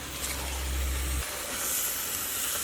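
Beef mixed into masala sizzles in a pan over raised heat, a loud close hiss with a low steady hum that drops away partway through, leaving the sizzle running alone.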